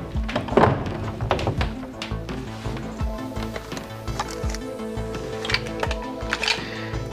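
Metal parts of a Swiss army service rifle are handled at close range, giving a string of sharp clicks, knocks and thunks of varying loudness with no talking.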